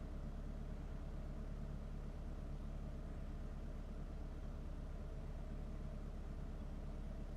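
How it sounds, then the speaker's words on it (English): A swapped 2.34-litre engine on a fixed cam idles roughly and steadily throughout, a continuous low rumble with no talking over it. "I forgot this is fixed cam, so of course it idles a little rougher."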